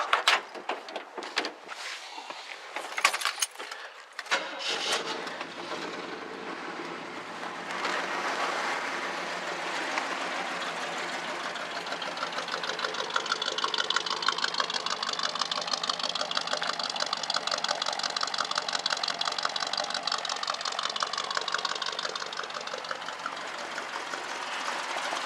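A Chevy truck's small block 350 V8 cranks with a few rough clattering bursts, then settles into a steady, smooth idle that hums on at moderate loudness, no talk.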